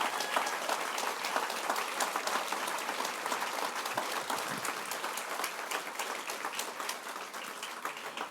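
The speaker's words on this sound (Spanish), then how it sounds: "Dale tu mejor aplauso a Él entonces." A church congregation applauds steadily and warmly throughout, a dense wash of clapping at moderate distance that thins slightly toward the end, with no speech over it.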